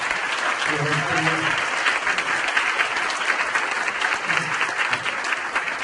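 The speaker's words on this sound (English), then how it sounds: "big round of applause to the folks at the Fairfax" A room of attendees at a ProAging event at the Fairfax gives a sustained round of applause for the venue staff, with a voice briefly speaking over the clapping early on.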